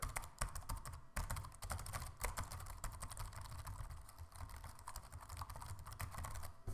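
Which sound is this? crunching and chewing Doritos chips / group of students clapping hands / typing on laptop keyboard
typing on laptop keyboard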